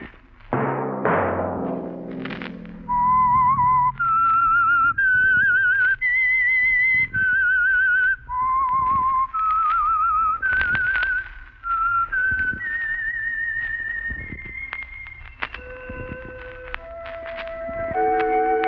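A bright, melodic whistled theme tune for a 1948 radio drama rises and falls across many sustained notes, clear and close, with soft clip-clop footsteps in the background.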